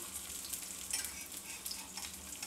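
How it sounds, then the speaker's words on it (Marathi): Poha cutlets crisping on a pan, giving a quiet, steady sizzle with light crackles, faint and close, with no talking. "छान असे एकदम खरपूस भाजून घ्यायचे"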